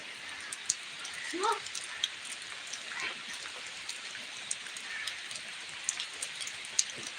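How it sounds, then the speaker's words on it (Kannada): Heavy rain falls in a constant, even hiss close by, with faint scattered drips and a brief, quiet vocal sound early on, otherwise uninterrupted downpour. "ಮಳೆ ಬೇರೆ ಜೋರಾಯಿತು"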